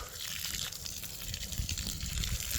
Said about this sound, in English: I'm going to water it nicely,